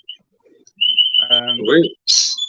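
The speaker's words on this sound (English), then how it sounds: "them birds are loud, aren't they?" Loud birds chirp and whistle in sharp high bursts, with a sustained whistled note followed by a bright chirp, while a voice is heard speaking in between.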